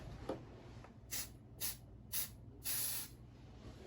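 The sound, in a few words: aerosol smoke detector tester spray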